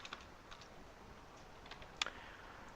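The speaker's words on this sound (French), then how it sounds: "Et j'écris n'importe quoi" Faint, sparse keystrokes tap on a computer keyboard as text is entered, a few soft clicks scattered across the quiet stretch with one sharper click near the end.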